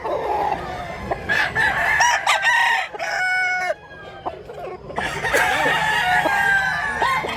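Several roosters crowing with repeated clucking from farm chickens, near and loud, at a Cebu fowl farm with bullstags; voices murmur briefly between calls.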